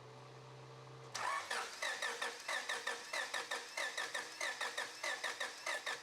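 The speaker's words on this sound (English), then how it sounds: "Now crank the engine to check compression." A car engine is cranked with the starter during a cylinder compression test, giving a fast, steady rhythmic churning of about three pulses per second after a constant hum, with no firing or speech.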